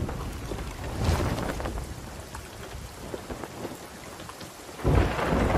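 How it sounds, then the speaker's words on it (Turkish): A thunderstorm in the video game Sea of Thieves, with steady heavy rain and two rolling thunder rumbles, one early and a louder one near the end. "Solumuz fırtına."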